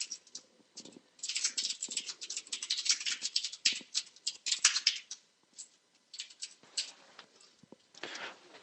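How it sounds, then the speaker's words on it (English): Rapid, close clatter of keys on a computer keyboard comes in uneven bursts with short pauses, as someone types code alone with no talking. "While you're still typing"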